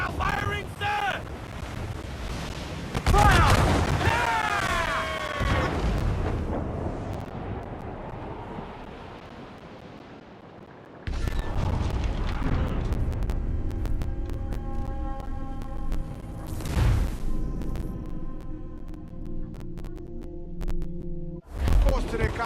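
Cannon fire and explosions in a naval battle in the video game Assassin's Creed 4 give several heavy booming blasts over constant wind and waves, with voices calling out in between.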